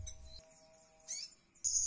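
Konin bird given a high-dose nectar mix, singing in short, sharp high chirps and whistled bursts separated by quiet gaps, close and clear with no talk.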